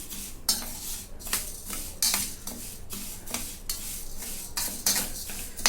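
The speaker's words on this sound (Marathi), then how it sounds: "आता याच्यामध्ये मीठ टाकून घेते आणि मिक्स करून घेते" Fried moong dal being stirred with salt in a metal pan or bowl, giving repeated scraping and clinking strokes of a spoon against metal at an even rhythm, close and moderately loud, with no talking.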